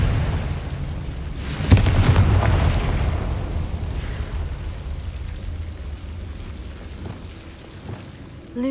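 A loud burst at the start of a Confringo fire spell in Hogwarts Legacy, followed by a long rumbling, crackling decay that slowly fades with no talk over it.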